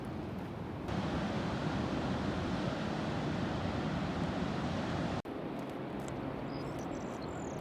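Surf breaking on a Cornish beach along the South West Coast Path, a steady broad wash of waves mixed with wind buffeting the microphone, with a brief dropout near the end.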